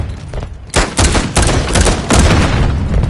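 A grenade blast and rapid gunfire in a Call of Duty Modern Warfare beta firefight, heard as sudden loud booming bursts overlapping with dense, close-range shots in quick succession.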